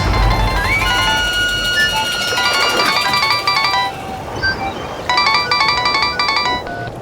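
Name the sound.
phone ringtone ringing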